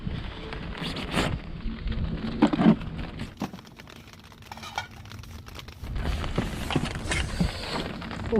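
Heavy rain drumming steadily on a camping tent, heard from inside as a dense close patter with gusty wind noise, swelling and easing over several seconds.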